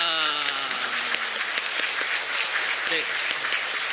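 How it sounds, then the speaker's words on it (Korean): A crowd at a church festival launch ceremony claps in welcome, the applause running steadily beneath a voice speaking over it. "큰 박수로 환영해 주시기 바랍니다"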